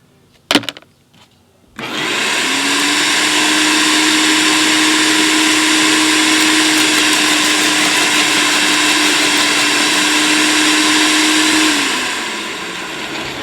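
SunJoe electric wood chipper roaring steadily as small sticks are fed in, a loud continuous whine after a few sharp clicks, running about ten seconds before winding down.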